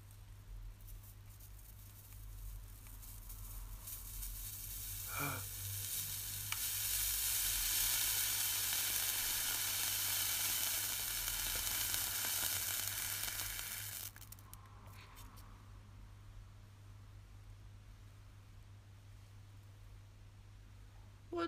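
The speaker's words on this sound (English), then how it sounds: "This is a video of my reaction of straightening wet hair." Hair straightener pressed onto wet hair, giving a steady loud hiss and sizzle that lasts about ten seconds and then drops off abruptly, with faint crackles over a low background hum.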